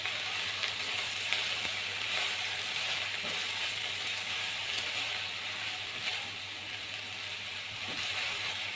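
Okra frying in a pan with salt as it is stirred gives a steady close sizzle with faint scraping, running evenly throughout without any talking.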